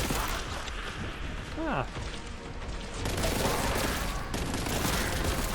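Bolt gun fire and combat in the Warhammer 40K: Boltgun video game, a dense, loud, steady barrage of shots and mechanical noise throughout, with a brief vocal exclamation near the start.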